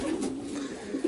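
Racing pigeons cooing in a loft, a low steady murmuring coo close by, continuous for about a second with no talk.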